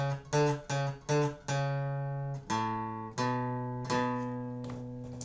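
Electric guitar plays a riff in a library guitar lesson: sustained, ringing power-chord notes struck one after another, several short repeated hits at first, then longer held chords sliding between pitches, loud and close with no talking.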